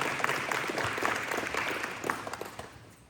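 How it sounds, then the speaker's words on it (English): Audience applause at a Safe Families Dessert Dash event, a steady wash of many hands clapping that fills the room and thins out toward the end. "Can we give one more round of applause for Jenny?"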